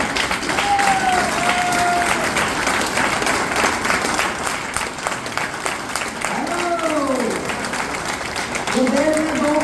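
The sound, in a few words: audience clapping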